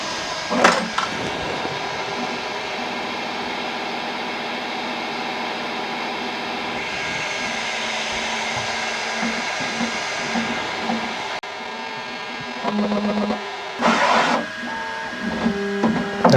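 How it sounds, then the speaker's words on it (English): A Bambu Lab X1 Carbon 3D printer with AMS cleans its nozzle tip during start-up calibration, giving a steady mechanical hum with shifting stepper-motor tones, a few sharp clicks and short bursts of motion noise close by. "Now it's cleaning the nozzle tip."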